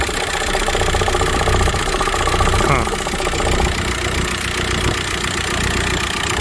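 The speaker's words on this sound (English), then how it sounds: "it sounds just like a good running TDI" A 2006 VW Beetle TDI diesel engine idling, a steady close rattling clatter with a low even drone that holds for the whole stretch without revving.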